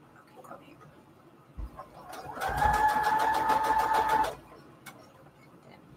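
A sewing machine stitches a decorative border through fabric laid on index cards, running steadily for about two seconds with a rhythmic mechanical whir after a soft thump, then stopping into quiet room sound.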